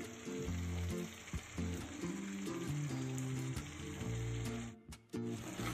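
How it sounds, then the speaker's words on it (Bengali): Ingredients fry in a pan with a strong, steady sizzle while a spatula stirs, giving intermittent scraping clicks over a low background hum. "অল্প একটু নেড়ে চেড়ে ভেজে নেব।"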